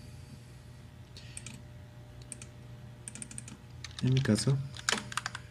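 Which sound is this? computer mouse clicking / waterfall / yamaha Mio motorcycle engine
computer mouse clicking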